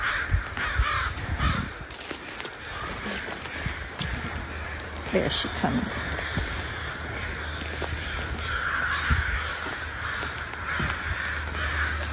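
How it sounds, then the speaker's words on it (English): Crows caw repeatedly and loudly outdoors during a dog walk, harsh calls scattered across the stretch with a brief spoken line from a person. "The crows are asking us to leave"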